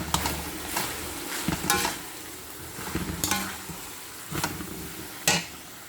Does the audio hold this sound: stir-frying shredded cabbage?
yes